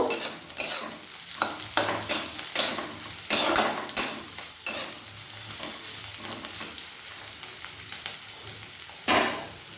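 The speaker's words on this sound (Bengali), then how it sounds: "এবার এগুলোকে একটু ভাজা ভাজা করে নেব" Chopped onions and garlic frying in a hot pan with dried red chillies, a steady sizzle broken by repeated sharp scrapes and stirs of a spatula against the pan.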